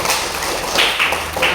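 A class of students claps their hands in a classroom, a dense, loud patter of many overlapping claps running steadily through the short moment.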